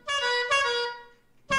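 A car horn honks in the game Lethal Company: two loud sustained blasts in close succession, then a third starting after a short gap, with no talk over them.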